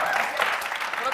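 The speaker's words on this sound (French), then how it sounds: "applaudissements pour Capi" A TV show studio audience applauds for a contestant during an artists-versus-footballers game, a dense even patter of clapping throughout the short stretch, moderately loud and close.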